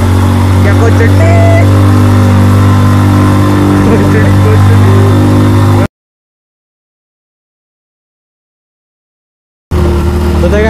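A vehicle engine labours steadily in first gear through floodwater, a loud continuous drone with a gap of silence midway before it resumes.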